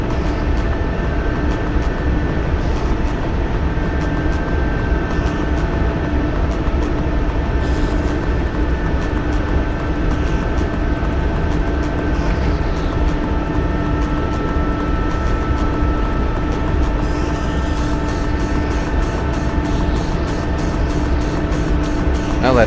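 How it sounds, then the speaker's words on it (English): Chinook helicopter setting down in a military video game, a steady loud rotor and engine drone with tonal whine that holds throughout without breaks, dense low rumble filling the scene. "Now that Chinook just landed"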